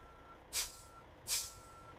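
Trucks arriving at the raw material receiving area of a ceramic tile factory, with two reversing beeps and a hiss of air brakes over a low, faint engine rumble.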